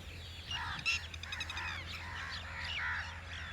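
Crows calling alongside other birds such as pigeons and mynas near a chicken farm, several harsh caws and calls at moderate distance with no talking.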